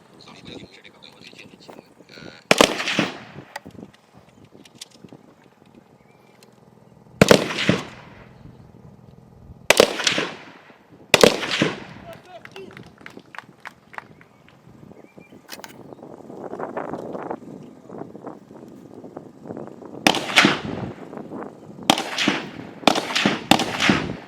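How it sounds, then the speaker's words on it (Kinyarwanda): Police fire AK-47 rifles on a shooting drill, the reports coming as sharp, loud single cracks spaced apart, then several in quick succession near the end, with background noise between them. "bakoresheje imbunda za AK-47. Barasira mu bwihisho aribyo twita shooting."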